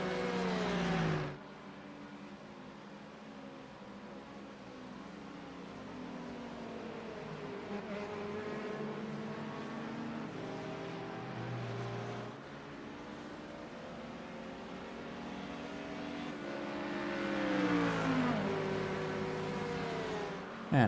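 Race cars in an iRacing endurance league round at Sebring roar past the pit lane, their sustained engine notes layering together and swelling loudly toward the end.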